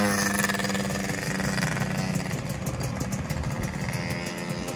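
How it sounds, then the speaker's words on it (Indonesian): A Yamaha FIZR motorcycle engine runs for its first start after a rebuild, a steady close idle throughout with a low buzzing drone. "Ini first run mesinnya"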